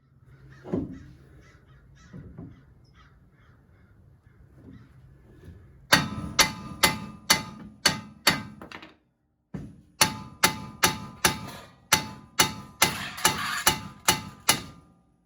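Sharp metallic hammer blows ring out on a 1968 Ford Mustang Fastback suspension part in rapid repeated bursts, about a dozen close strikes with a brief pause between two sets, after a quiet start.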